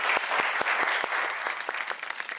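Audience applause at a televised Hindi music show, a dense steady clapping from a studio crowd that fills the whole stretch, loud and close, with a few sharper individual claps standing out.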